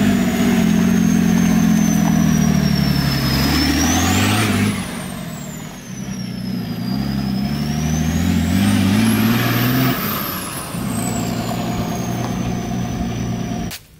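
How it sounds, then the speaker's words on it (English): A BMW M57 3.0 straight-six twin-turbo diesel fitted in a Volkswagen LT40 4x4 runs loud and close, a deep steady rumble that revs up, drops and climbs again while a high turbo whistle rises and falls with each rev. "You know, straight six, twin turbo diesel, you can't beat it."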